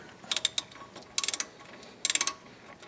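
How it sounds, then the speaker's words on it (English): Ratchet clicking in short rapid bursts while loosening 13 mm brake caliper bolts on a Chevrolet Trailblazer or GMC Envoy, three close, crisp clusters of clicks with quiet gaps between. "Want to remove the caliper bolts. They are 13 millimeter."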